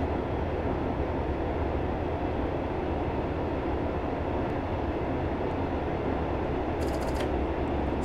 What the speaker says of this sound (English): I've just idled the power to allow the train to coast